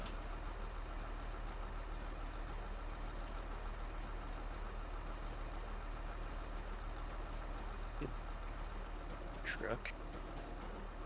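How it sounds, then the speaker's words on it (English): A truck engine idles in Farming Simulator 22, a steady low rumble running under ongoing voices, with a brief sharper mechanical noise near the end. "Truck."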